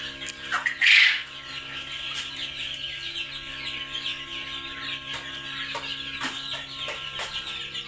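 A flock of 22-day-old quail chicks, both cocks and hens, kept on a farm. One loud, harsh squawk rings out near the start, followed by scattered short, sharp chirps and cheeps over a steady low background hum.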